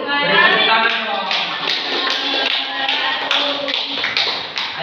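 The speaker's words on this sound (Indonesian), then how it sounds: "Beri tepuk tangan dong." Applause from a group, likely children, in an Indonesian classroom or gathering: dense, irregular clapping runs steadily throughout, close and fairly loud, with voices mixed in underneath.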